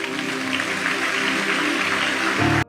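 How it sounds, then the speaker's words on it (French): A church congregation bursts into loud, continuous applause and cheering for the Lord, a dense crowd roar that holds steady before cutting off abruptly at the end. "Acclamez très fort pour le Seigneur"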